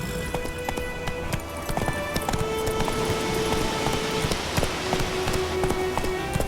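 Rapid hoofbeats of a galloping horse in The Witcher 3: Wild Hunt over a dense bed of game ambience and scattered clicks, steady and continuous, moderately loud.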